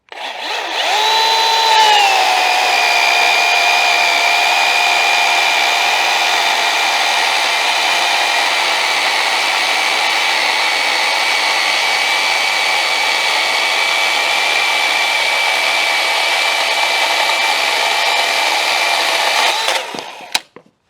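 A Milwaukee M18 top handle cordless chainsaw cuts through hard oak, its motor spinning up to a loud, steady whine that holds for about eighteen seconds before dropping off sharply as the cut ends; no voices.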